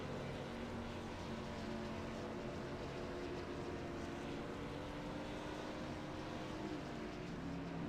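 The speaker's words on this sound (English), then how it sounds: "It sounded like the motor almost dropped power for a moment and picked right back up." A race car engine in an iRacing Xfinity Series race at Daytona drones steadily at a faint level. The tone holds a continuous whine with slight pitch wavering, and no one talks.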